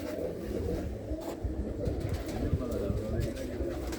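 A sturdy pet pigeon held up for display coos in low, throaty rolls, close and quiet, amid faint handling sounds and background murmur.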